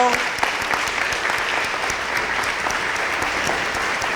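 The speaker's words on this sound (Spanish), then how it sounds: "voy a darles un aplauso a todos por haber venido" Sustained applause from a church congregation, steady and dense clapping throughout, fairly loud with no pauses.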